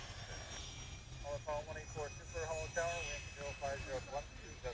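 An Airbus A380 superjumbo jet arrives at Honolulu airport, a steady broad engine roar that stays fairly distant throughout while people talk over it.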